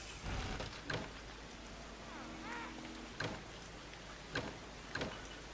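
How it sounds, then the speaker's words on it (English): Rain falls in the survival video game Don't Starve Shipwrecked, a soft steady hiss beneath faint game sounds, with a few sharp clicks and a brief warbling tone in the middle. "Here comes the rain."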